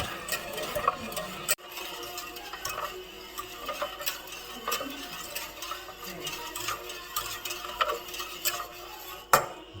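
A custard mixture for natilla being stirred in a pot, a soft, steady scraping and ticking of the utensil against the pan, faint and continuous with occasional sharper clinks.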